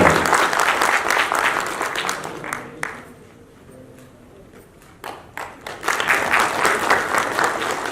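A crowd at an Indian political party event claps loudly in sustained applause to welcome a guest, fades briefly to scattered claps, then swells back to full clapping.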